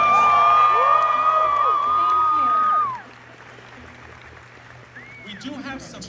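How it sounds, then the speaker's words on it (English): A convention panel crowd cheers and whoops loudly for about three seconds with shrill shouts, then the noise quickly dies down to scattered murmur and a few voices in a large hall. "Let's give them another round of applause."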